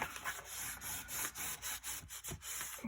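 A bone folder or burnishing tool rubbing firmly along a scored fold in paper for a handmade mini album, producing repeated dry scraping strokes close by, steady and fairly loud with brief pauses between passes.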